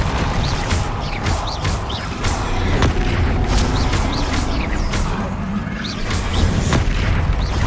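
Repulso spell blasts in Hogwarts Legacy during a trial battle, heavy booming impacts over a dense, continuous roar of game combat, with sharp bursts every second or so and no clear speech.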